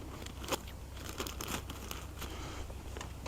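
Faint crinkling and snipping close by as scissors cut the corner off a plastic bag of fishing pellets beside a tub of water, short crisp rustles with no talk.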